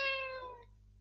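A house cat gives a single drawn-out meow, close and clear, fading out within about a second against a quiet indoor background.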